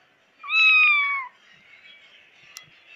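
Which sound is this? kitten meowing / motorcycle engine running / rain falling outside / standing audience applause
kitten meowing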